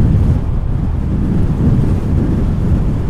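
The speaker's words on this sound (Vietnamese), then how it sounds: "Bây giờ đây gió nó rất là to" Strong wind roars steadily across the microphone high on a coastal mountain pass at Cà Ná, Ninh Thuận, as a dense, continuous low rumble with no pauses.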